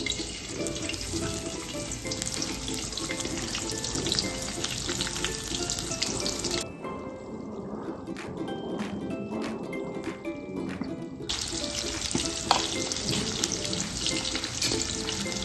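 Onion frying in a generous amount of oil for chicken biryani, a dense, continuous sizzle close by that drops away briefly in the middle and then returns at full strength.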